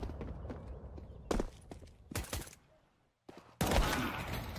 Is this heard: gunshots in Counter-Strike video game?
yes